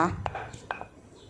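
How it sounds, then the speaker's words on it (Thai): Shallots and garlic pounded in a mortar for Thai shrimp-paste chili dip: a few faint, sharp knocks at irregular spacing, quiet and close, with a soft hollow ring, and no talking. "ก็จะตำหอมกับ กระเทียมก่อนนะคะ"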